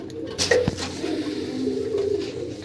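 Tournament pigeons coo close by in a short soft burst, with a low murmuring call and faint rustle of the birds around them.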